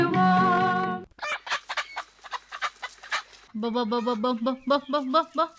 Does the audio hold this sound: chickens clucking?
yes